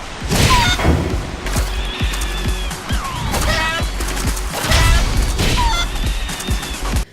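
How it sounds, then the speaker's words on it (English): In the Tokyo Jungle video game, a chicken kicks rabbits, producing a busy mix of game effects: repeated impact thuds and crashes, squawks and animal cries, with chirpy sound effects layered throughout. "Tokyo Jungle is a game where you kick rabbits in the face with a chicken."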